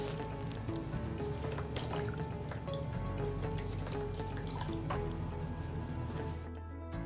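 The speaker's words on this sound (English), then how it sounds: "rinse the soap off using just the water" Water splashes and drips as soap is rinsed off skin with a towel during catheter care, a steady wet squishing and trickling that runs throughout with no talking.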